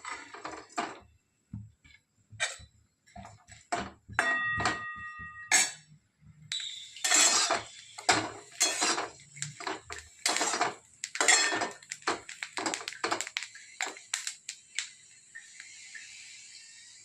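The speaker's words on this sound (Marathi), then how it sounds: "आता थोडंसं भाजून घेणार आहोत" Chopped green chillies tossed in a pan for dry roasting, with clinking of a metal spatula or spoon against the pan in quick irregular bursts, close and fairly loud, with no talk.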